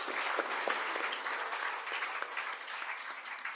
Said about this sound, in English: shall we give a good round of applause for all our presenters